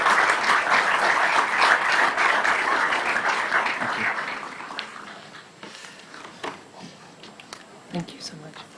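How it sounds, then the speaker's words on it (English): Applause from a conference audience for a panel at a sports tourism congress, a dense broad clatter that is strong at first, then thins into scattered, fading claps with a few isolated ones near the end. "if everyone could just give a round of applause for our panel"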